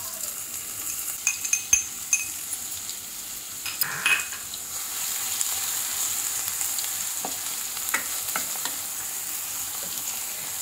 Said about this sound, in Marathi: कांदा लालसर भाजून घेते